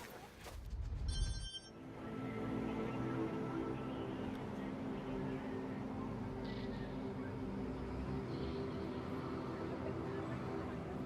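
A phone rings briefly at the start in the Watch Dogs 2 video game, then gives way to a loud, continuous rushing background like water or an engine.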